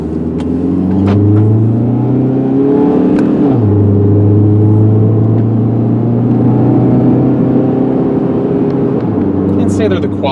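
A 2005 Chrysler PT Cruiser SE with a front-wheel-drive four-cylinder engine accelerating from inside the cabin, engine note rising through a gear, dropping at a shift, then climbing again, with someone talking over it.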